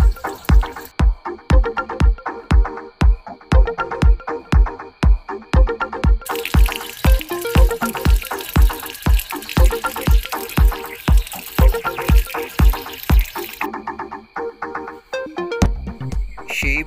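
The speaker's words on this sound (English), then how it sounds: "Then rinse with water after 8 hours to remove the non-fibrous materials." Bamboo fibers are rinsed under running water, with rapid regular drips and splashes tapping close by and a stretch of hissing flow in the middle.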